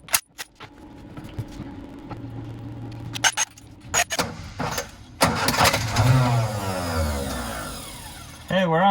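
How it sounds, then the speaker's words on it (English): An old barn-stored Austin-Healey Sprite engine cranks over in repeated bursts, with oil added to the cylinders, turning and nearly catching before sputtering, amid clanks and a voice speaking nearby. "It was trying to start"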